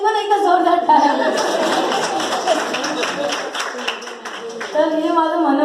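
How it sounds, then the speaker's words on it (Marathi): A school audience at a state-level science competition prize distribution breaks into a few seconds of scattered clapping that fills the hall, framed by a speaker talking into a microphone before and after. "लिव्ह स्कूलसाठी पण एकदा जोरदार टाळ्या."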